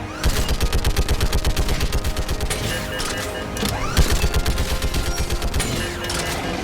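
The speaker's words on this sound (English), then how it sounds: "Keep firing!" Sustained rapid gunfire in a battle in the video game Mass Effect Legendary Edition, loud, dense bursts of automatic shots in quick rhythm with a few heavier impacts mixed in.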